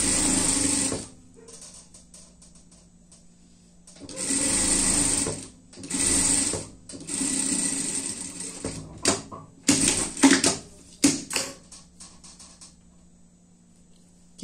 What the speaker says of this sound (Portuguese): Você pode fazer essa parte aqui na overlock